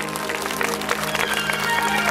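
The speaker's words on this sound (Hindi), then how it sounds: "जोरदार ताली बजाइए।" A crowd at a Bhagavat katha religious gathering in a village claps vigorously, dense applause mixed with sustained musical tones throughout the brief moment.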